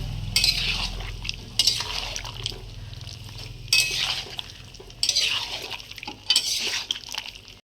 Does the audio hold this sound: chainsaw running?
no